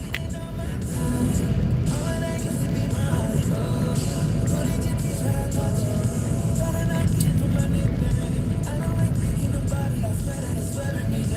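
A car being driven and then brought in to park, its steady engine and road rumble running throughout under a talking voice and background music.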